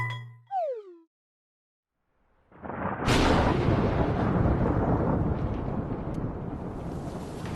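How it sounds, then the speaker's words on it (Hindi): A rolling thunderclap in an animated story opens after a brief descending whoosh and a pause, then a sharp crack breaks into a loud, sustained rumble blending with a dense wash of heavy rain. "तेज कड़कती बिजली और मूसलाधार बारिश"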